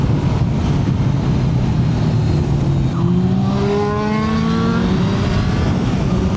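A Honda Fireblade CBR954RR sports motorbike accelerates hard from a steady engine drone into a rising rev, its pitch climbing through successive gears, loud and close under rushing wind noise.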